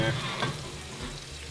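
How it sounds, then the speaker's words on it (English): Beer simmering in a small cast iron pan on a Kamado Joe grill, a short burst of close bubbling sizzle. "Oh, good simmer action going there."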